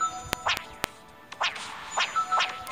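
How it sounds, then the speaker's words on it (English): Rapid cartoonish quacks from a duck-like character in a Messenger video game, repeated in short bursts as the jump button is spammed, with a few sharp clicks between them. "I can just keep spamming the jump button and he'll keep quacking or something."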